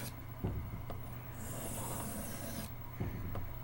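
Camillus electrician's knife blade stroked across a sharpening stone, a faint, steady rasping rub with a few soft knocks as the stroke changes.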